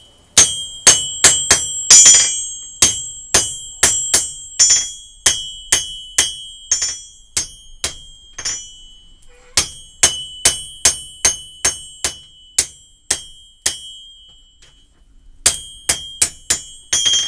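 Steel knife blank being straightened with a hammer on an anvil, dozens of bright ringing clanks in uneven bursts with short pauses between runs, close and loud.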